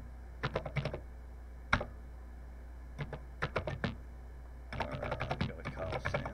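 Typing on a Texas Instruments TI-99/4A computer keyboard in short bursts of clacking keystrokes with pauses between, close and fairly quiet, ending in a quicker run of presses.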